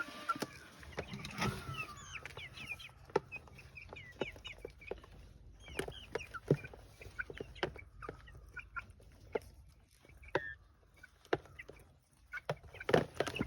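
Chickens clucking softly and steadily while pecking at black soldier fly larvae, with scattered sharp pecks and taps among low murmuring clucks, fairly quiet and close.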